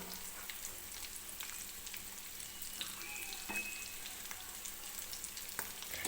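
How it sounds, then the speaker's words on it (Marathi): Samosas deep-frying in hot oil, a steady soft sizzle and bubbling that runs throughout with a few faint clinks, heard alone without any talk. "छान असे क्रिस्पी होईपर्यंत आपल्याला हे तळून घ्यायचं आहे बरं का."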